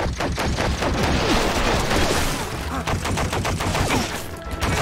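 Dense, continuous gunfire from a gun in the Stranglehold shooter video game, loud bursts overlapping steadily across the whole stretch with heavy low-end thumps and faint background noise.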